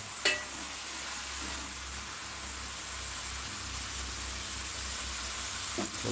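Chicken curry being cooked and stirred in a pan, a steady soft sizzle and hiss with a couple of sharp utensil clicks near the start and end, no talking.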